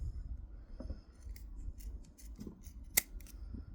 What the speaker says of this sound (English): And again, cut with the scissors.